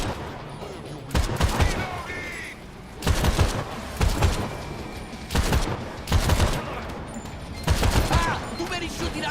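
Dense bursts of enemy gunfire in a crime-boss shooter video game, repeated volleys of fusillade-like shots arriving every second or two, loud and close, with a player talking over parts of it.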